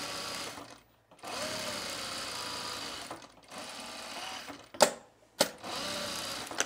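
A sewing machine stitches a dog jacket in several bursts of steady whirring separated by short pauses, with a couple of sharp clicks near the end, close and fairly quiet.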